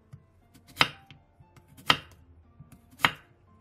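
A knife slices a zucchini lengthwise on the diagonal into strips about 0.2 cm thick, three sharp, evenly spaced chops against a cutting board with quiet gaps between them.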